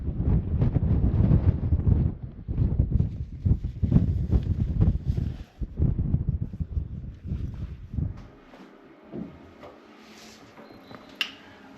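Wind buffeting the microphone on a cold mountain summit in Montenegro, steady loud rushing gusts that ease toward the end, leaving faint scattered sounds.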